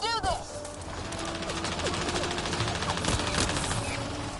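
Rapid gunfire fills a Mass Effect Andromeda firefight, dense and continuous with clattering bursts and mechanical clanks, while voices talk over the shooting.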